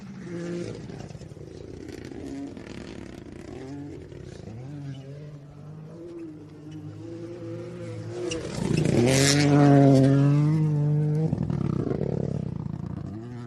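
A rally car's engine roars louder as it approaches, revs hard and rushes past over a jump on a rally stage, its pitch sweeping up and then falling away.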